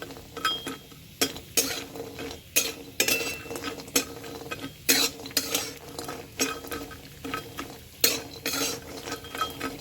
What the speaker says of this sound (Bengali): বড়িটাকে ভেজে নেব